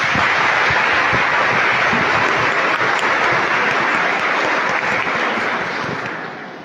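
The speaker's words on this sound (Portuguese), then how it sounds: "Obrigado pela uma salva de palmas." A church congregation gives a loud, sustained round of applause during a Holy Thursday Mass, a dense wash of clapping that tapers off slightly toward the end.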